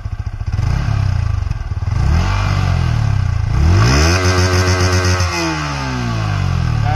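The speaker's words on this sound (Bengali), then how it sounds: "এখানে আমাদের এটা ইঞ্জিনের একদম নর্মাল আওয়াজ চেক করতে চলেছি" A 2024 Yamaha MT-15 motorcycle engine runs close by after being started, its pitch swelling and dropping through several rev blips over a steady mechanical clatter, loud and with no talk.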